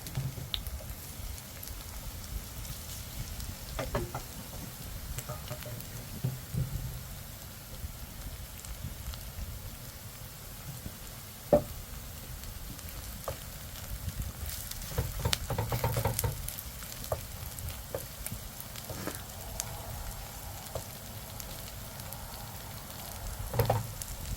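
Food fries in a pan with a generous amount of oil, giving a steady, moderately quiet sizzle and patter broken by occasional sharp pops and clinks.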